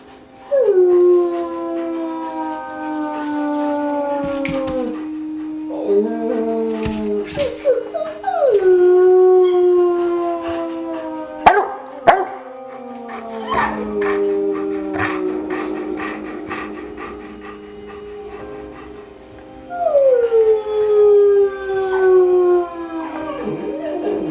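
Old English Sheepdogs howl indoors on a couch, several long sliding howls rising and falling in overlapping bursts, with pauses and a few short yips between them, fairly close and loud.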